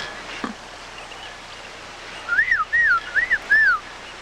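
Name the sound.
person whistling, imitating bird sounds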